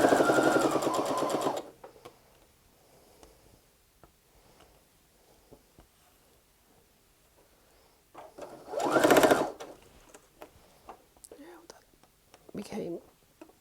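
A sewing machine chain-pieces quilt patchwork in short, fast bursts of stitching separated by quiet pauses, with soft, low talk in between.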